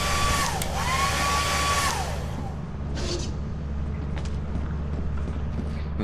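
A hair dryer item in a video game blows a steady whirring drone with a rising and falling whine at the start, then continues more faintly under the game's background rumble.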